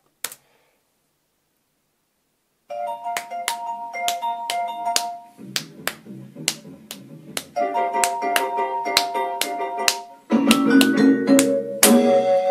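Sharp hand claps tap out a syncopated 2-3 clave pattern of crisp, evenly struck hits in a repeating figure, played over a Latin jazz record with sustained tones beneath.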